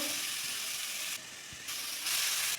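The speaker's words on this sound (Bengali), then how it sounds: "এরপর সেই তেলের মধ্যে গাজরগুলো দিয়ে দিব।" Chopped carrots sizzle and hiss in hot oil, a steady close frying crackle with brief quieter dips and a louder surge toward the end.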